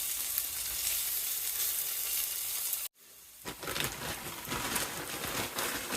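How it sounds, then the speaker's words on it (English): Onions blackening in a hot pan, sizzling steadily and loudly up close, briefly cut off, then resuming with stirring and crackling. "I've started making myself blackened onions to add a little flavor"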